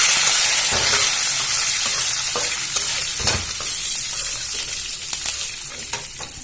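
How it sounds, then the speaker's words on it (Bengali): Curry leaves fry in a pan with semolina, a bright, close sizzling hiss that slowly eases, punctuated by a few sharp spoon knocks and stirring scrapes. "কারি পাতাগুলো দিয়ে আবার ভালো করে ভেজে নেব"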